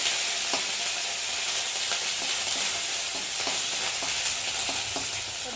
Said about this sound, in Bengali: জিরে বাটা আর আদা বাটা দিয়ে একটু ভালো করে ভেজে নেব মশলাটা